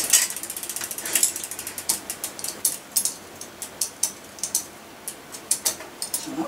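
A rapid run of crisp mechanical clicks from a Saracen Raw mountain bike being shifted up through its gears, the derailleur and chain ticking in a near, regular ratcheting rhythm that slows slightly toward the end, with no voices.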